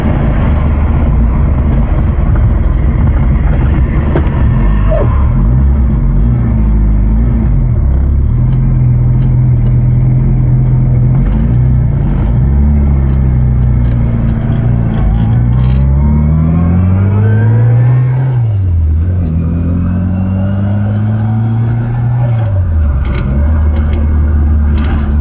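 Classic Mini engine running on a drive, a loud steady rumble from inside the car with pitch rising through the revs and falling at gear changes, climbing again after each shift.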